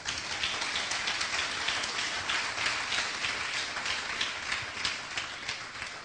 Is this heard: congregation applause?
yes